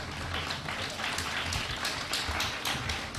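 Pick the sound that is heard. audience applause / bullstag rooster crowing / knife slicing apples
audience applause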